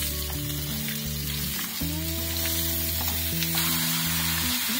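Vegetables sizzle and crackle in coconut oil for a Thai green curry, a steady close-up fry with occasional stirring and a faint tonal hum underneath, no voices.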